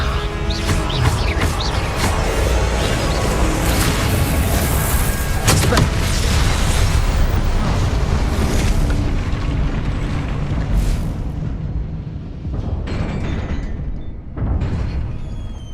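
Spell blasts and explosions in the Hogwarts Legacy video game form a loud, dense rumble of booms and bursts that eases off toward the end.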